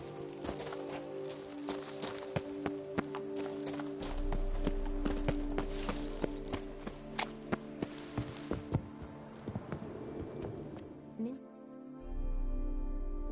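Roach, Geralt's horse in the video game Witcher 3, clip-clopping along in a fairly steady rhythm of hoofbeats over a low music and ambience bed, with brief bursts of character voices.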